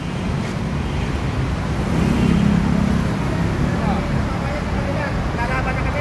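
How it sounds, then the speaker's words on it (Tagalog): Steady road and engine noise of a car moving through city traffic in the Pasay and Parañaque area, a continuous broadband rumble that swells slightly midway, with faint voices underneath. "Ayan, tumatakbo po yung sasakyan."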